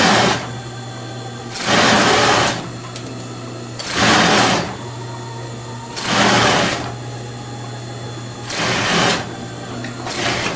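Sewing machine stitching a tulle skirt in four loud bursts of rapid mechanical whirring and clatter, each lasting about a second, separated by pauses in which only a low steady hum remains, recorded close up.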